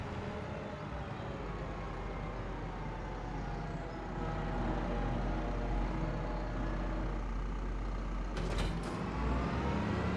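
A small tractor engine idling and revving in Farming Simulator 25 on the Schaadeheim map, a steady low mechanical rumble that swells slightly partway through, with a brief clank near the end.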